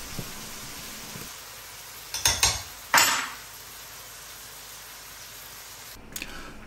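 A fork presses and squishes softened tomatoes in a pan of chunky chipotle tomatoes and beans, giving a couple of short wet squelching bursts with metal scraping against the pan over a steady low hiss.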